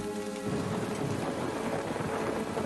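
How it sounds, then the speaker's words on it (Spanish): Steady heavy rain with a low rolling rumble of thunder from a spectacular electrical storm, loud and continuous, with no voices over it. "Cuando de pronto se vio atrapado en una espectacular tormenta eléctrica."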